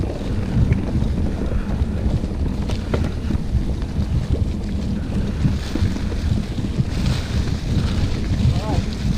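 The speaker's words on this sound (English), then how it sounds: "Windy. Yeah, very windy." Strong wind roars constantly across the microphone on a mountain bike trail at Schaeffer Farm, Germantown, Maryland, a dense low rumble with gusty surges that stays loud from start to finish.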